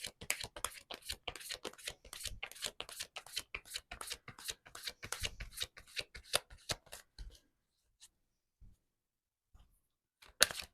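Tarot cards shuffled by hand in a quick, dense riffle of crisp card flicks close to the mic, stopping after about seven seconds and followed by a few sparse taps.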